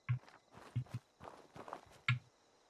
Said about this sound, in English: My footsteps a little bit loud, if I'm honest.